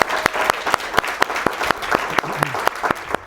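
A class audience applauds guest director Jason Ensler with a short round of fairly sparse, distinct claps, close and clear.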